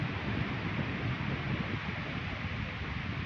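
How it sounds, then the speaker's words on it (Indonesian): Steady, broadband wind roar blowing continuously on a forest hiking trail near Limbangan, Garut, with a low rumbling buffet and no voices. "Angin terlalu besar."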